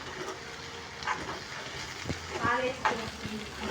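Raw banana (arati kaya) fry being stirred in a pan, with soft scraping strokes and a few louder clanks over a faint sizzle at moderate closeness; a voice is faintly present.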